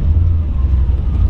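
A 1955 Chevrolet Bel Air resto-mod idling nearby, its engine giving a loud, deep, steady rumble with a slightly lumpy pulse throughout.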